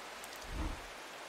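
Rain falls steadily in the video game Strange Horticulture as a soft, even hiss, with a brief low rumble swelling in the middle of the short stretch and no voices.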